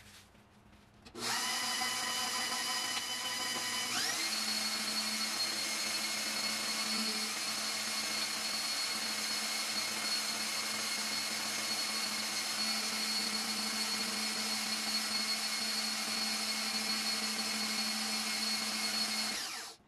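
A motorized ZACME pasta attachment on a tighter setting rolls floured dough with a steady, loud mechanical whine. The motor starts abruptly after a second, shifts pitch slightly, then holds an even drone until it cuts off.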